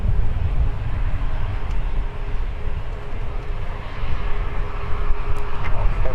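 A jet airliner takes off from runway 12 Left at Minneapolis–St. Paul airport, a loud, steady engine roar that holds close and unbroken throughout with no voices.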